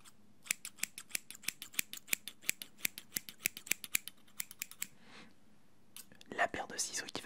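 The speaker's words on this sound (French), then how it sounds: "La paire de ciseaux qui va bien avec." A quick series of about two dozen crisp scissor snips, evenly paced and close, followed by a pause and some rustling with a soft voice.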